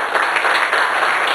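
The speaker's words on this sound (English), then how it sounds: "Give him a nice round of applause." A studio audience at a country variety show gives a brief burst of steady, full applause welcoming the host of a comedy dating-game sketch.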